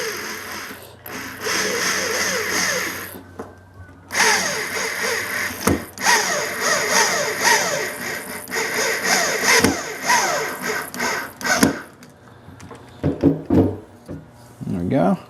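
A power drill drives a screw into wood in short bursts, whirring loudly in several separate pulses with pauses and handling noises between them.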